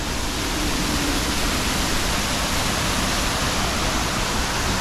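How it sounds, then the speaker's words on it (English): Waterfall at the Busch Gardens theme park: a steady, loud broadband rush of falling water that holds constant throughout, with no voices over it. "Got the waterfall going."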